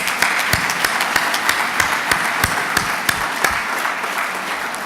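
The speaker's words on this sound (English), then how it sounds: "Let's give him a round of applause even though they're not here." An audience at an all-star awards gala claps in a steady wash, with a few louder individual claps standing out near the microphone at a regular pace.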